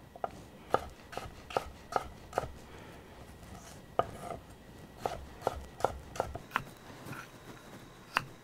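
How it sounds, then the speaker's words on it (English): A Rada kitchen knife chops celery on a cutting board for a jicama slaw, giving about fifteen crisp, close taps in an uneven rhythm with short pauses between bursts. "Cut them into shorter pieces here."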